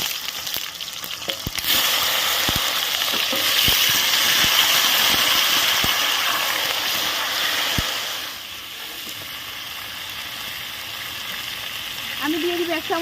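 Tomato and papaya hit a pan with 4–5 dried chillies and set off a loud, dense sizzle with scattered clicks of stirring; the frying stays strong for several seconds, then settles to a quieter hiss.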